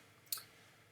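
A single crisp mouse click, close and quiet, made while working in Fusion 360 design software, followed by near silence.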